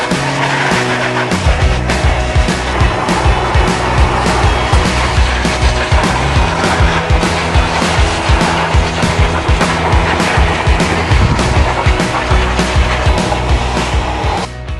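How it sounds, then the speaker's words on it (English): A loud, steady roar of a grooming blower runs throughout, with a harsh broadband rush and a motor hum underneath. "a little bit of a protection layer from the noise of the blower."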